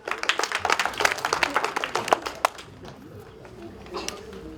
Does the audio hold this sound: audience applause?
yes